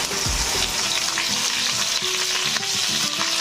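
Spice paste, cooked with cloves, cardamom, cinnamon and whole peppercorns for a duck egg curry, sizzles loudly in a hot pan. It gives a dense, continuous hiss while a utensil scrapes and stirs it, with no voices.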